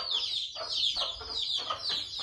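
Chicks clucking in short repeated bursts, fairly close, with faint background murmur and no talking.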